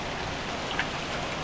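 Heavy overnight rain pours steadily over a flooding riverside neighborhood, a dense, even hiss of downpour close around, with no voices.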